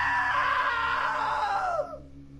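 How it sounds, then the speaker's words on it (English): A loud, sustained scream from a character in the game What Remains of Edith Finch, holding high and strong for about two seconds before it falls and trails off at the end. "Now that was a great scream"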